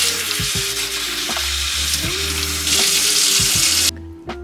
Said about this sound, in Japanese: よく揉みながらすすいでいただいて、またね、さらに塩で揉んでいきます。